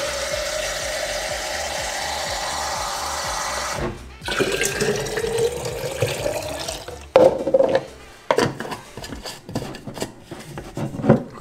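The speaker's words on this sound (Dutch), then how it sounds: "Het laatste wat ik nu nog ga doen is gewoon de restant wat hierin zit aanvullen met water." Water runs from a tap to top up a bottle holding the rest of a liquid plant-nutrient mix. Steady flowing water for about four seconds, then splashing and bottle handling sounds, close and fairly quiet.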